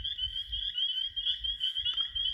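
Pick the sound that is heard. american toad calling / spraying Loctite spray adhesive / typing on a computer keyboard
american toad calling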